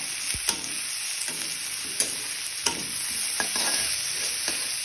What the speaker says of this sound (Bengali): এখন পেঁয়াজ ভাজা চলছে।